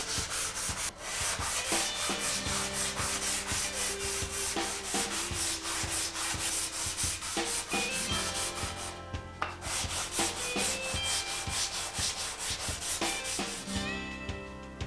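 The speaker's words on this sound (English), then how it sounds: "Using a sanding block fitted with 220 grit paper, sand the surface of the buck until it's smooth" Steady, continuous sanding of balsa wood with a block fitted with 220 grit paper, a dense scratchy rasp running throughout with brief pauses between strokes, close and fairly loud.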